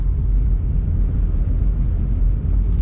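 A 2000 Chrysler Grand Voyager SE van on the move after sitting off the road, with a steady low road rumble and engine drone heard from inside the cabin, constant and fairly loud, with no talk.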